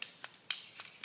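A razor or knife trims wax in short, sharp scraping cuts, about five quick strokes, close and quiet, with no voices.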